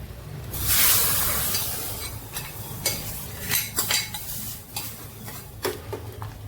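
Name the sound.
stirring sambar in a pot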